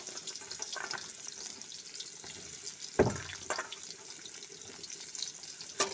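Vegetables are stirred in hot oil in a pan for a chicken stew, giving a soft continuous sizzle broken by a few scraping knocks of the spoon, with no talking.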